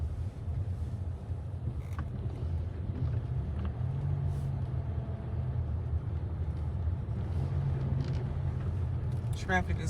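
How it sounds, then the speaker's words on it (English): Backed-up car traffic on an approach road near an airport, heard as a continuous low engine rumble and road hum, with faint clicks and light rustling on top. "the traffic is backed all the way out to the road"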